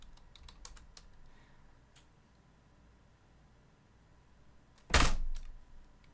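Quiet, scattered taps on a computer keyboard, a few light keystrokes early, then a louder thump-like burst of keys near the end.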